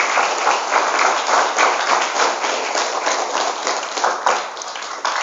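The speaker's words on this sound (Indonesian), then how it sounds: "tepuk tangan untuk kita semuanya hari ini" A seminar audience breaks into loud sustained applause, a dense crowd of clapping hands rolling on steadily throughout and heard up close, with no speech over it.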